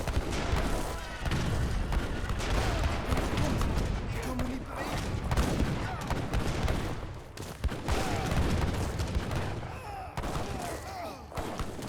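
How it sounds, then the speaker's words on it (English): Heavy cannons and musket volleys in an Age of Empires 3 battle, a busy stretch of overlapping booms and crackling shots with short sharp hits scattered throughout, mixed with quieter game sounds. "Heavy cannons still do a bit of splash to them."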